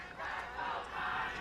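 Crowd in the stands at a women's small college national championship rugby match, St. Bonaventure versus UW-Platteville, cheering and shouting in a steady, loud roar with no clear breaks.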